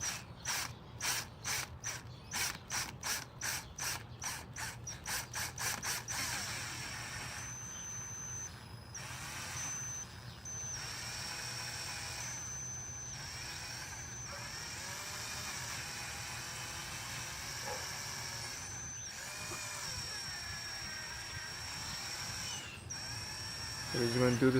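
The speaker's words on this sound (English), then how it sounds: "Don't press too much. Let the drill do everything." Polishing out a scratch on a car with a drill-mounted 3M pad: a rapid stuttering ratchet-like whir at first, then a steady, fairly quiet mechanical hum that runs on for a long stretch, with a voice talking over it.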